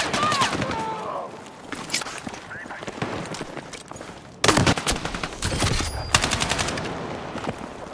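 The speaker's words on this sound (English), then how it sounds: "I felt tactical with the shotgun out." Gunfire from a Battlefield 6 firefight, including a shotgun, with sharp blasts in a dense cluster near 4.5 seconds and more bursts after 6 seconds over steady background battle noise.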